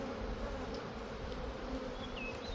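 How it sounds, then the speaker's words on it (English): Honeybees from a full-size colony being split hum in a dense, steady drone, close and continuous, with a few individual bees whining past near the end. "get a lot of bees out of it, they're gonna swarm and fly away anyhow"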